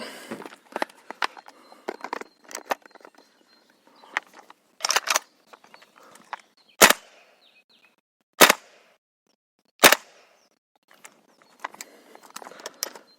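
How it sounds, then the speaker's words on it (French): An AK-74 CO2 gas blowback airsoft rifle fires a magazine as a handful of sharp, separate cracks with pauses between them, mixed with softer mechanical clicks and handling noises, close and otherwise quiet. "On va essayer de suite de tirer ce chargeur."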